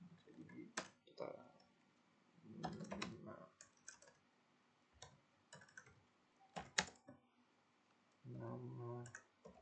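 Sparse typing and clicking on a computer keyboard while editing text in an Ionic project, scattered soft keystrokes at low level with brief bursts of a voice murmuring between them.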